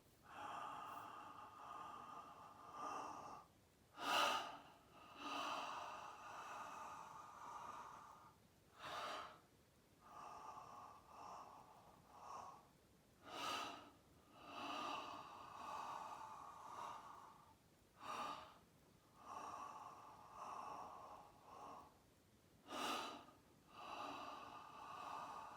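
Slow belly breathing exercise, one person drawing deep audible breaths in and out through the nose, a steady repeating cycle of long soft inhales and exhales close to the mic, quiet and unhurried with no talking.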